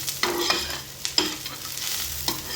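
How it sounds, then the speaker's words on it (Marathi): Ingredients for Satara-style chicken rassa roast golden brown in a pan over a low flame, a steady close sizzle broken by several sharp scraping stirs, with no talking. "आता एक घालून गोल्डन ब्राऊन करून घ्यायचा आहे।"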